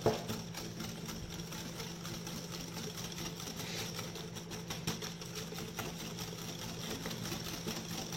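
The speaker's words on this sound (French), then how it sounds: "Je le mets au micro-ondes et je le fais fondre." A microwave oven runs with a steady, low, even hum while it melts butter for a quatre-quarts pound cake, continuing unbroken and fairly quiet throughout.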